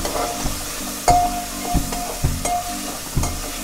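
Tomatoes fry with salt in a pan for a Hyderabadi chicken tahari, giving a steady close sizzle broken by several sharp scraping stirs, with no talking.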